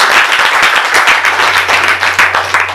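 A church congregation at a consecration service applauds the man of God, steady dense clapping from many hands filling the room, loud and continuous without speech, with a low hum entering partway through.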